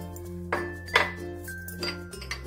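A metal spoon clinks against a dish while measuring coriander seeds for a Marathi kothimbir vadi recipe: three or four light, bright clinks spaced apart over a steady background hum.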